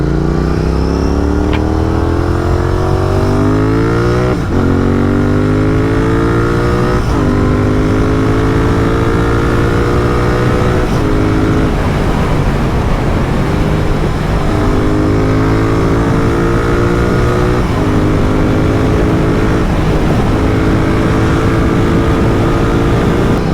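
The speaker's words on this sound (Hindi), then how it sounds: "बाइक के स्पीड रन्स, इसकी आवाज़ एंड इसके स्पेशली जो क्रैकल्स है।" A loud Royal Enfield GT 650 motorcycle engine accelerates through repeated gear shifts, each rising whine dropping at the change, with rough exhaust crackle, up close throughout.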